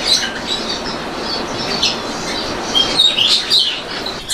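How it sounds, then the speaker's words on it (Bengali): Small finches in an aviary chirp and tweet in quick, high, scattered calls over a constant hiss of background noise, with a few wing flutters and denser bursts of calls toward the end. "এগুলো ফিঞ্চ বলে, এগুলো নর্মাল ফিঞ্চ বলে"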